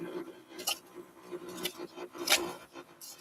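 Scissors snip a part for a WPL C24 RC truck build in a few sharp, close cuts spaced apart, with light rubbing and handling noises between them.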